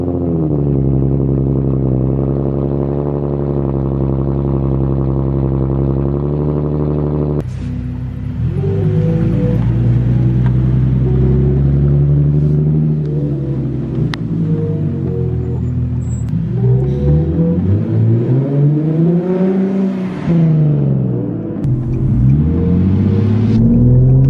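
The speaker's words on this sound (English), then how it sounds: "Cold start." Nissan 370Z engine cold starting: a steady loud idle with a sharp catch as the engine fires, then rumbling revs that rise and fall in long sweeps, close and alone.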